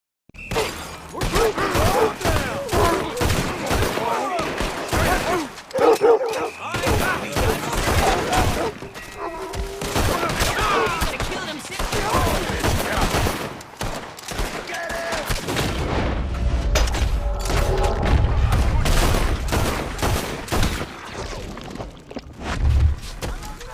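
Gunfire during a chaotic shootout in Red Dead Redemption 2, repeated sharp shots and volleys crackling throughout with breaking glass and shouting voices mixed in, plus a lower rumbling stretch near the end.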